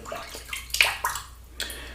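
Water splashes and trickles in short bursts, with a few sharp wet slaps, close by and fairly quiet.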